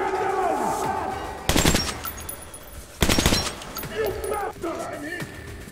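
Machine gun fire in Metro: Last Light Redux, two loud sharp rapid bursts about 1.5 seconds apart over a rumbling game background, with someone speaking faintly.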